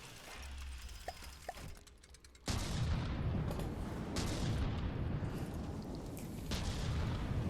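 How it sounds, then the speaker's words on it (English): Missiles launch in a rapid burst during a space battle video game, a loud sustained roar of firing and detonations following a sudden onset and running to the end with no voices over it. "A lot of missiles going out"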